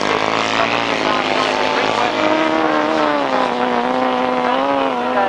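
Grasstrack racing machines at a 1992 High Halden meeting roar round the circuit in a loud, continuous engine drone whose pitch rises and falls as they sweep off the top bend, with a commentator talking over it.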